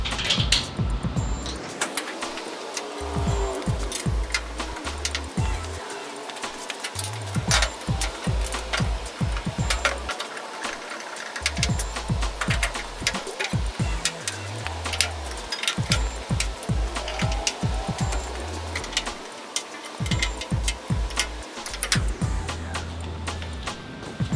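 Screws being driven to fasten a cover onto a Weber Performer grill, with a close, buzzing power driver in repeated short bursts and small clicks and knocks between them.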